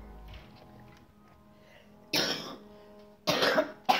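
Two close, harsh coughs burst out after a quiet stretch, followed by a third short cough at the end.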